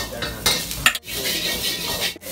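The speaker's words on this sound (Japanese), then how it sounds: "鍋でネギを炒めていきます" Green onions are stir-fried in a wok after fried noodles, with a steady sizzle under scraping and clanking of a utensil against the pan. Several sharp knocks stand out, close, with no talking.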